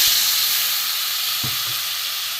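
Water poured into a pan of sizzling crab curry masala sets off a loud, steady hiss of steam and frying at close range, with a faint knock or two underneath.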